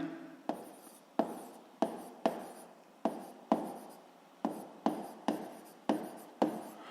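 A pen scratches out a physics law on paper in about ten quick bursts of strokes, each with a sharp onset and a short fade, close and steady with no talking.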